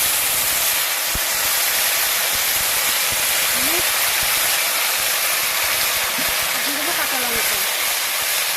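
Whole spices, bay leaves, chillies and ginger-cumin paste sizzle in hot oil for taro leaves with a steady, loud, hissing crackle throughout, while a person talks over it.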